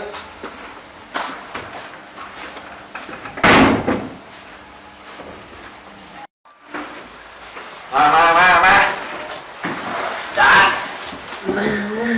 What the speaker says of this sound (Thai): ปิดประตูให้เราด้วย